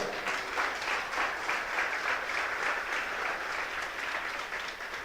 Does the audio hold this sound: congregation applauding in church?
yes